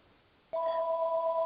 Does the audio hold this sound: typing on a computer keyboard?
no